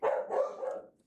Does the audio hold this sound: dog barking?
yes